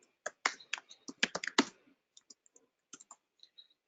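Quick, close clicks of keys on a computer keyboard while Java code is typed, a dense run of rapid keystrokes followed by sparser, softer taps; no voices.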